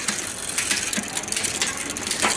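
Front derailleur on a bicycle shifting across the chainrings, small to middle to big, giving a few close mechanical clicks and ratcheting chain clatter with no talking.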